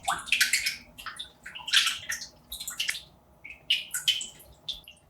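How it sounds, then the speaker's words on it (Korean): Costco salmon rinsed under cold running tap water in a kitchen, giving close, intermittent bursts of splashing and trickling with short pauses between them and no voices. "찬물에 한번 꼼꼼히 씻어 소금기를 제거해주고"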